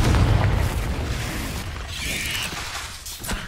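A Confringo spell explosion from Hogwarts Legacy: a loud, low booming blast at the start that rolls off into a crackling, fading rumble, with no voices.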